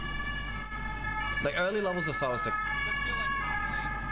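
A wailing ambulance-style siren effect rises and falls during a T1 versus TL League of Legends MSI play-in broadcast, sitting under game sounds while a caster talks over it.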